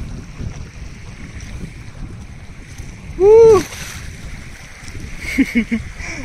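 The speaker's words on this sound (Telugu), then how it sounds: "ఈరోజు గాలి ఎంతో ఎక్కువగా అయితే ఉంది." Strong wind near the sea buffets the microphone in a continuous low rumble that swells and eases, with a brief loud tonal sweep about halfway through.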